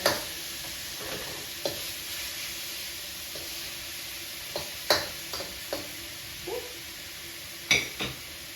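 Steak sears in a stir fry pan with a steady low sizzle and hiss, broken by several sharp clinks and scrapes of a utensil against the pan.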